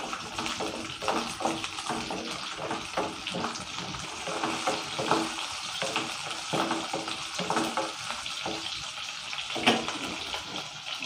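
Shallots and green chillies sautéing in a pan for a village-style garlic curry, with a continuous close sizzle and rhythmic stirring scrapes throughout and no talking.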